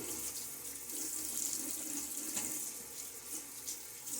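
Steady running tap water splashing into a sink, a continuous bright hiss with no talking.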